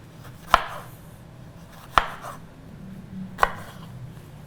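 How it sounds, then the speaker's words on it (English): A knife slices half a green pepper thinly on a cutting board, three sharp, evenly spaced chops about a second and a half apart, close and crisp against a quiet room. "cut half a green pepper. Nice and thin"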